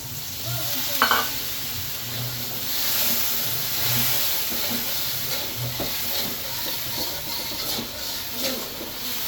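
Mutton frying with salt in a pot after a splash of water, a steady broad sizzle and hiss with occasional stirring scrapes, close and continuous without speech.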